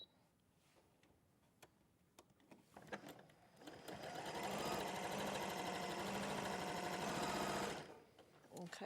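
A sewing machine with a quarter-inch foot stitches quilt squares, its rapid mechanical chatter rising into a steady close run for several seconds before stopping, with light clicks and handling noises before it starts.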